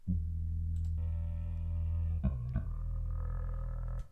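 A cappella bass vocal pitched down an octave with the EQ removed, deep sustained sung tones full of low rumble and some upper grit, close and alone, shifting pitch a few times.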